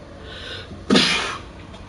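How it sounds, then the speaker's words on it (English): A single loud, sharp sneeze bursts out close up after a quiet moment, then trails off quickly, with no talking around it. "Hold on, let me sneeze."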